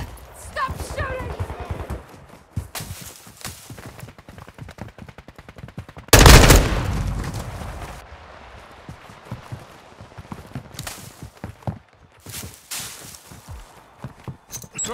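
Gunfire rattles in Call of Duty: Modern Warfare 2 during a third-person Moshpit match, with rapid automatic bursts and scattered shots, one loud close blast standing out, alongside footsteps and brief voices.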